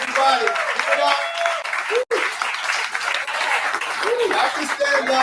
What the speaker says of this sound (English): Can we give them a round of applause, everybody?